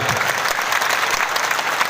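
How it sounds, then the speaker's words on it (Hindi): A crowd at a spiritual discourse claps hard and continuously, a thick, close burst of applause that stays loud from start to finish. "थोड़ा जोरदार तालियां का"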